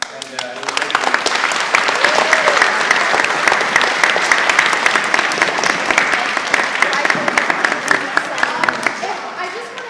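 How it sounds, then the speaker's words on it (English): A school assembly audience breaks into sustained applause, dense clapping from many hands that swells quickly and holds for several seconds before easing off, loud and filling the hall. "So can we give him a big round of applause?"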